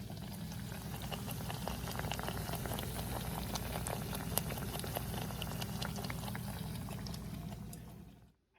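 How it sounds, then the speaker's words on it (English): Homemade fried bread dough bubbling in a small deep fryer, a steady close crackle and sizzle with dense popping that runs on unbroken before cutting off abruptly at the end. "I just have a small deep fryer, the one that I bought for my boyfriend for his birthday."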